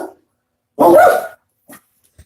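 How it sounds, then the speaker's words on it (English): Dogs barking at a delivery arrival, one loud close bark followed by a couple of short, quieter yips in an otherwise quiet space. "Dogs are going crazy."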